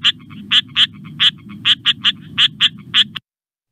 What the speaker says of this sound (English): this is one example, the striped rocket frog